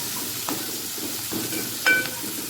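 Fenugreek leaves frying in oil for an aloo tomato curry: a steady soft hiss with a couple of brief stirring scrapes and a short metallic clink, heard close.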